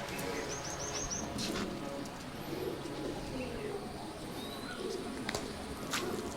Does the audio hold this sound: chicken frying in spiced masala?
no